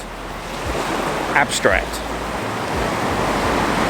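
Sea waves washing onto a beach, a steady broadband roar of surf with wind buffeting the microphone, while someone speaks briefly over it near the middle.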